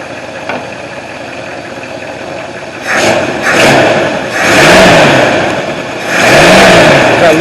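A Mustang engine runs loud and close with a lifter pumping up, idling roughly and then rising in two revving swells with a throbbing, uneven tone.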